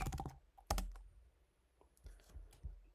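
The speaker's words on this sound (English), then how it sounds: "I'm gonna type Oppenheimer." Quiet clicking of keys on a computer keyboard as a movie title is typed, a few quick close taps in short clusters separated by near silence.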